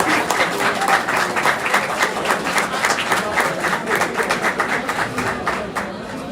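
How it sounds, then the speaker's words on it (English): Lively applause from a crowd at an athletics event, many hands clapping densely with faint chatter mixed in, holding strong before easing off slightly toward the end. "Give them one more round of applause."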